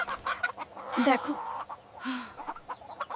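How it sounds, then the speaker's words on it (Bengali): Chickens clucking nearby in short irregular bursts, with a single spoken word heard among the calls. "এই মুরগিগুলো কোত্থেকে এলো?"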